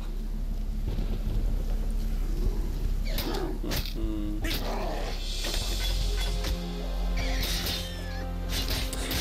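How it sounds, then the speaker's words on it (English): Video game Path of Exile produces thunder and lightning effects: rumbling thunder cracks and rain-like hiss over a steady game soundscape, with several sharp bright bursts scattered across the stretch. "are the lightning effects a lot more frequent now?"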